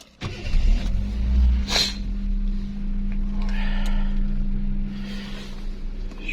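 A Hyundai Atos with an old automatic gearbox cranks briefly and starts, then settles into a steady low idle hum inside the car, with a few faint clicks and cabin noises.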